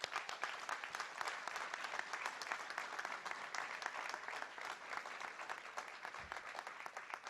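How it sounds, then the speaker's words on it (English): An audience at a criminal justice reform bill signing gives a dense, sustained round of applause for an advocacy team, a continuous wash of many hands clapping at a distance. "Please give them another round of applause."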